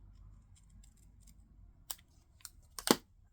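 Scissors fussy-cut small paper pieces for a card, with a few soft snips, then sharper close cuts clustered near the end and no talk.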